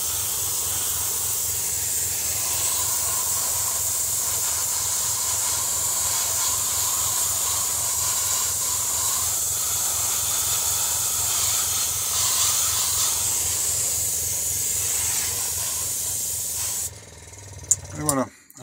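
Paint sprayed onto model railway track for weathering gives a continuous close hiss that runs steadily for most of the clip, then cuts off near the end with a few handling knocks.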